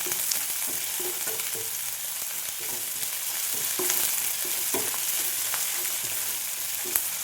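Onions sauté in a pan for chickpea kurma, a steady close sizzle with repeated soft scrapes and stirring knocks, no talking.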